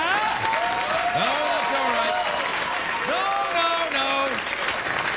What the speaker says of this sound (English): Applauding me